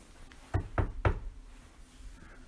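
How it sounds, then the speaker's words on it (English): Three firm knocks on a castle door in quick even succession, close and distinct against a quiet room. "there was a knock on the castle door."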